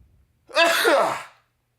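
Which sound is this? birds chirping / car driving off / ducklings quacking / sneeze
sneeze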